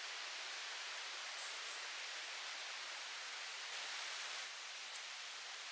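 A river in green woodland gives a steady, even rush of flowing water, a soft broadband hiss at a distance, with no talking over it.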